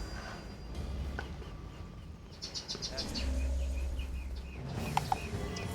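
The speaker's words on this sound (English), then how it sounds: "There are birds singing." Birds chirp and trill in short bursts over a steady ambient hum in the video game Code Vein, mixed with faint insect-like buzzing and scattered soft game effects.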